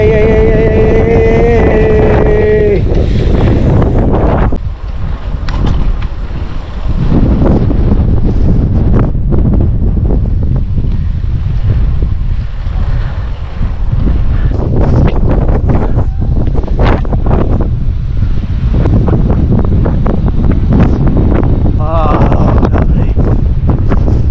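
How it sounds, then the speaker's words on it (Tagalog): Strong wind buffets and roars across the microphone in loud, gusty bursts during a cycling club ride, with a brief voice near the start. "So grabe yung hangin."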